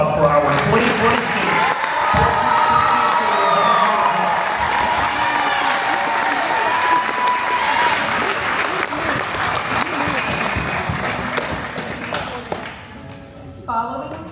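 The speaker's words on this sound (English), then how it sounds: "Let's have another round of applause for our 2022." Applause with some cheering from a large crowd at a school homecoming ceremony, a steady loud wash of clapping lasting about fourteen seconds before thinning out at the end.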